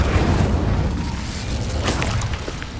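An Incendio fire spell goes off in Hogwarts Legacy, a loud, sustained booming whoosh of flame with rumbling low end, carrying on steadily for a few seconds.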